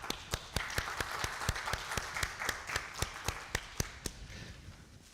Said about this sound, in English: Let us applaud.